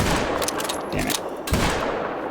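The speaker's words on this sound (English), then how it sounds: "I pushed my luck too much with the running shot, with the moving shots." Rifle shots in theHunter: Call of the Wild fired at a fleeing ibex, with a couple of sharp broadband cracks standing out over steady outdoor game ambience.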